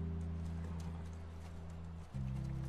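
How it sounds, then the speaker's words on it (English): Horse hooves clip-clop faintly during a horse riding sequence in The Last of Us video game, with steady sustained music tones underneath. "the idea is just this little horse riding montage"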